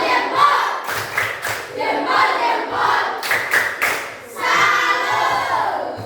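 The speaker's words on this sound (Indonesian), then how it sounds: "Tepuk salam dulu buat Noel." A class of students performs a 'tepuk salam' clap greeting for a classmate during an artificial intelligence lesson, giving rhythmic bursts of group clapping broken by short pauses, with voices joining in between the claps.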